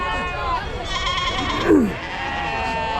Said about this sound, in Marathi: भरपूर मेंढे आहेत बाजारात